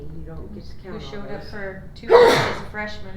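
A single loud sneeze bursts out partway through a school board work session, cutting across ongoing conversation between several people.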